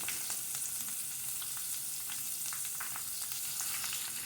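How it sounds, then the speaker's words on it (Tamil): Cleaned dried anchovies fry in a pan with mustard seeds and split urad dal for a radish and anchovy gravy, giving a steady, close crackling sizzle with scattered pops and no talking. "இப்போ நான் க்ளீன் பண்ணி வச்சுருந்த கருவாடை ஆட் பண்ணி வதக்கிக்கிறேன்."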